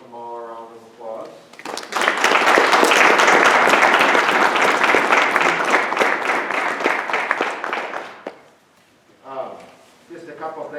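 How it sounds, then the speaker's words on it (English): An audience applauds after a courtroom mock trial showcase: a dense, sustained burst of clapping that swells for several seconds, then dies away, with talking before and after. "Give them all a round of applause."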